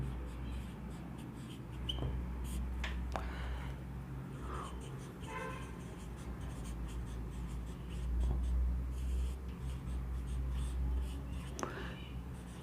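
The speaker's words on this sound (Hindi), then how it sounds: "एक नोट डाल के मैं यहां लिख दे रहा हूं।" Marker or chalk writing on a classroom board during a lecture, with scattered faint scratchy strokes over steady low room hum, close and fairly quiet throughout.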